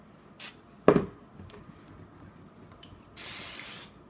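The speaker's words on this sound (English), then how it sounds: "you can spray some on like this. I'm just going to do a light spray" Olive oil spray misted lightly over a halved spaghetti squash in a home kitchen: a few short hissing bursts, one sharper near the start and a steadier second-long spray at the end, close and fairly quiet.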